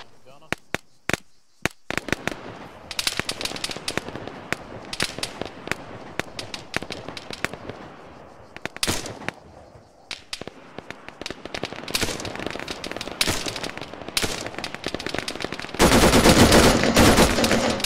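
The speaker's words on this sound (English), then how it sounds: "we'll fucking shoot him back then" Arma 3 combat with loud, dense gunfire: single shots and rapid automatic bursts crackle almost nonstop, building into a sustained, heavy barrage near the end.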